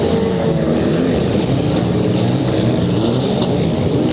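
Demolition derby cars at the Ashland County Fair roar steadily and loudly, their engines churning in a continuous rumble with no pauses.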